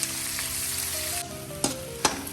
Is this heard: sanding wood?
no